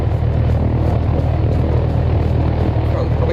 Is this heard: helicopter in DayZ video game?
yes